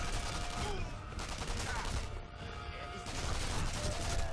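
Rapid suppressing gunfire in the co-op shooter Sniper Elite V2, a dense loud stream of overlapping shots and impacts that briefly thins out midway before resuming, with faint voices underneath.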